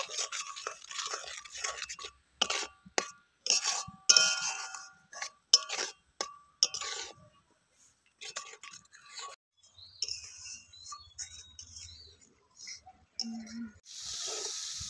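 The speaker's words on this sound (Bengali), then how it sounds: "আর দিয়ে দিচ্ছি টমেটো বাটা। সবকিছু দিয়ে মশলাটাকে ভালো করে কষিয়ে নেব।" A spice masala with salt and tomato paste is stirred and fried in a pan, heard as a series of quiet, irregular scraping and clinking strokes separated by short pauses, with no talking.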